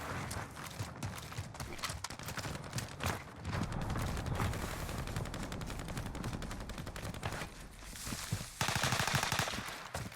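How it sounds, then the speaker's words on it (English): Gunfire in the video game Call of Duty Warzone, with dense rapid bursts of shots cracking almost without pause over a busy game soundscape, then a louder close burst near the end. "Shots really close to our right hand side."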